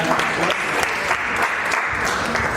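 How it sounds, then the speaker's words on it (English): A room full of people applauds at a Bitcoin and women's financial freedom event in Ghana, a dense, steady wash of many hands clapping at close range, without any break. "with a round of applause"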